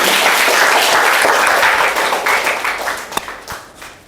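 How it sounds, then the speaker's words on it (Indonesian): Sustained applause from an audience at a teacher performance assessment session, steady and dense at first, then thinning and tapering with a few scattered claps near the end. "Tepuk tangan buat Mas Faisal ya."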